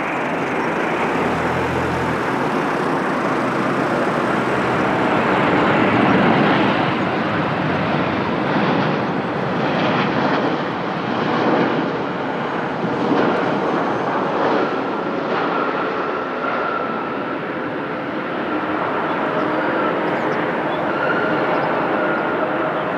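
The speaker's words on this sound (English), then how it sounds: "Oh, we have a Dreamliner on short final, LATAM. It's arriving from Fortaleza." A LATAM Boeing 787-9 Dreamliner, eight years old, lands at Lisbon Airport after a flight from Fortaleza. A steady, loud jet roar fills the whole stretch and swells gently in the middle as the plane passes.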